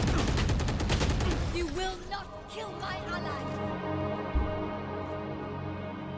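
Gunfire in the shooter Valorant erupts in a dense burst of rapid shots at the start, then fades into quieter game ambience with a single later thump, fairly faint overall.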